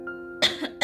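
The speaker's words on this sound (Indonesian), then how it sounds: "aduh sorry aku batuk." Two sharp, close coughs in quick succession, the second cut short, with a brief murmur between them.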